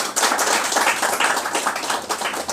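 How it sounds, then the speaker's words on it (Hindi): An indoor audience at a gathering claps continuously. Dense, fast hand claps run steadily for the whole stretch, close and lively. "ताली तो बजाओ।"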